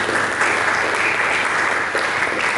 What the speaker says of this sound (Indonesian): Berikan tepuk tangan bagi Yesus Kristus.